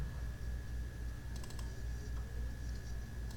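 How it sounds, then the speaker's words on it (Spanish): Computer keyboard keys and mouse clicks sound in a few quick, light taps over a steady low hum, close and isolated with no talking. "yo lo que puedo hacer es dar doble clic o enter"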